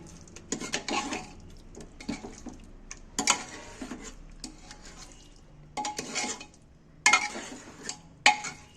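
Egg and chilli being stirred with a metal spoon in a pressure cooker, giving repeated clinks and scrapes in irregular bursts, moderately close, with no talking.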